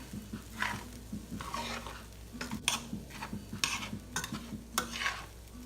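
Egg fried rice is stirred in a hot pan, with a soft sizzle under repeated scraping and clinking strokes of a utensil against the pan, up close and fairly rhythmic.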